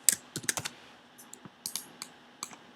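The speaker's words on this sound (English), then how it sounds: "and type in Groot" Quick clicking keystrokes on a computer keyboard come in short bursts and scattered single taps, close and crisp against near silence.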